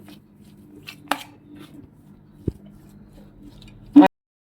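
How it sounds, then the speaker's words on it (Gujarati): A few scattered scrapes and taps of a spoon against a bowl as a thick potato filling for aloo paratha is stirred, with one sharp clink near the end. "હવે એને ચમચીની મદદથી આ રીતે મિક્સ કરી લઈશું"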